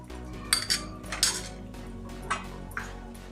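A metal spoon stirs semolina with ghee and cardamom powder in a bowl, giving several sharp clinks and scrapes against the bowl at an uneven pace, close up and alone.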